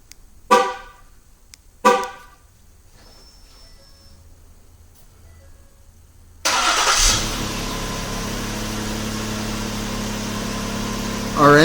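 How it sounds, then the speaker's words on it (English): Two short chirps sound before a 2011-2015 Ford Explorer fires up by remote start, its engine catching abruptly and settling into a steady, close idle. "We're going to go ahead and remote start the vehicle."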